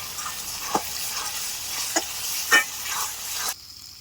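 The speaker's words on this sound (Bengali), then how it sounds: "ডালটা দিয়ে আমি দুটোর একটা নাড়া দিয়ে নিয়েছি" Raw mung dal is stirred in a hot pan, giving a steady soft sizzle with a few distinct scraping strokes before the frying noise cuts off abruptly.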